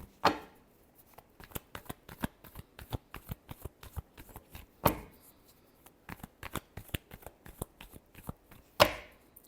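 Tarot cards being shuffled by hand in quick bursts of soft riffling and tapping, with a sharper slap of the deck every few seconds, close and fairly quiet, no talking.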